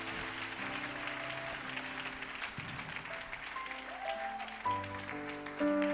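A church congregation claps and acclaims together, steady applause spread through the room under sustained keyboard or organ tones that shift chord now and then.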